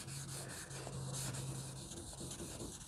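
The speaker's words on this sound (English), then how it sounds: "when you wet sand, guys, you don't want to apply too much force." Wet sanding by hand with a sanding pad on a wetted surface, giving a steady, continuous rubbing swish with light pressure, close and fairly quiet, with no talking.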